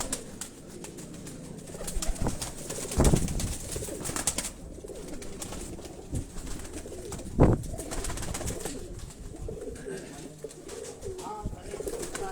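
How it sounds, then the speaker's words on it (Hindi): Pigeons coo repeatedly amid a noisy outdoor rooftop setting with several birds at a Karachi loft, soft throaty calls blending with background chatter and occasional louder bursts. "ये भी प्रवासी कबूतर हैं जी"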